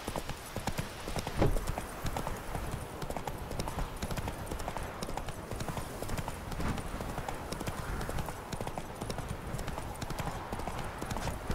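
Roach, a horse in The Witcher 3, gallops with steady rapid clip-clop hoofbeats, loud and close throughout, over a busy game soundscape.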